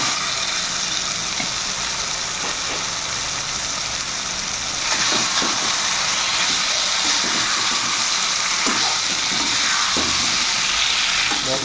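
Fried pointed gourd (potol) tipped into a pan of spiced masala, hissing and sizzling steadily. The frying noise swells louder partway through as the gourd pieces hit the hot spices, with no talking.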